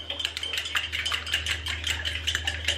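Fast, rhythmic clinking of a whisk or fork beating eggs in a bowl for scrambled eggs, close and lively metallic taps over a low steady hum.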